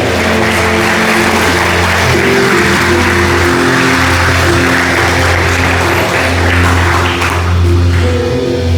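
A church congregation applauds, a dense steady wash of many hands clapping together at high volume, heard alongside sustained organ or keyboard tones, without speech.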